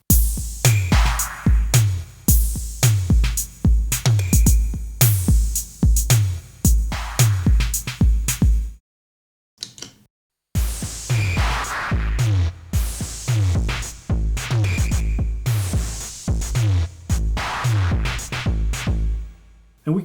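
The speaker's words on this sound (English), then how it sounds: "So without the drive activated, it sounds like this." A programmed drum groove plays dry without analog drive, a steady electronic beat with punchy kicks and bright hats and snares, loud and alone, dropping out briefly to near silence before the pattern resumes.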